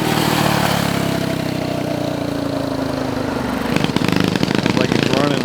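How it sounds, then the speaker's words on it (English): Mini bike engine running steadily, a loud close idle that rises in pitch and settles, then turns rougher and more pulsing toward the end. "for now, the mini bike runs"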